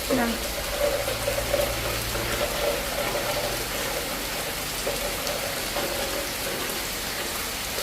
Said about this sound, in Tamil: கடும் மழை வந்து பெய்யுது